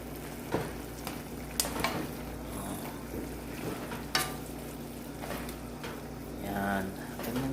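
Chicken drumstick adobo with a little lime bubbles and sizzles steadily in the pan, with a few soft knocks from stirring over the constant frying hiss.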